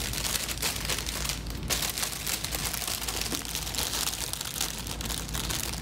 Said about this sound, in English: So be careful when you position the plastic bag.